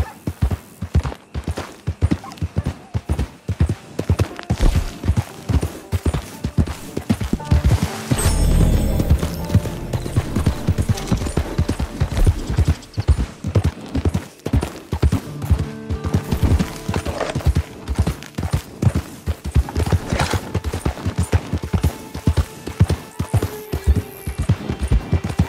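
Horse hooves clip-clopping in Red Dead Online on the Great Plains, a steady rhythmic run of hoof beats that keeps going throughout, close and fairly loud.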